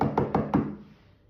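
Four firm, louder knocks on a cottage door in a quick even rhythm, near and solid, followed by a short decay into silence.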